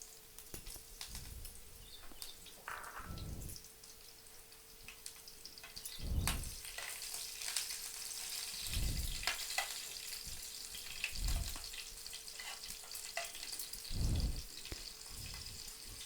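Chillies frying in oil with fenugreek seeds for a spicy Nepali chukauni. A faint, steady sizzle runs throughout, broken by soft irregular pops and clatters every few seconds, with no voices.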